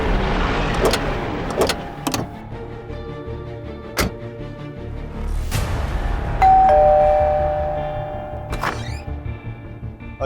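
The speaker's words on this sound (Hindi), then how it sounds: "अभी थोड़ी देर पहले डोरबेल बजी थी" A doorbell chimes indoors with a sustained ringing tone, among scattered sharp knocks and thumps and a low background hum.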